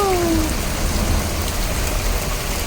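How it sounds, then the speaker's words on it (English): Steady heavy downpour of hail and rain hisses and patters on surfaces, a dense continuous wash of falling precipitation, close and loud. "And now it's freaking hailing."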